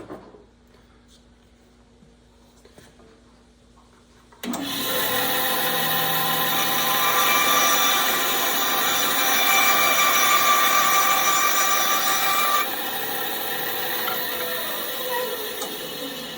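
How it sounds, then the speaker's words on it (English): After a few seconds of quiet, a power drill starts up boring a hole in a canoe part, whining steadily, then its pitch drops slightly as it keeps running. "Got the hole drilled there, but we didn't make it all the way through."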